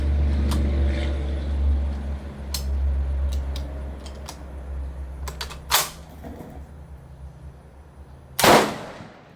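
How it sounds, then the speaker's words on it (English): A hang fire from an M1 Garand rifle shows as a brief sharp report near the end, following scattered clicks and handling noises over a low steady rumble of background hum. "Big old hang fire."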